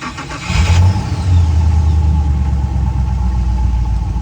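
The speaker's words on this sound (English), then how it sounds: "Now, start the engine" The inboard 6.0L MPI engine of a 2020 Mastercraft XT21 boat cranks briefly, catches and settles into a loud, steady low rumble that continues to the end.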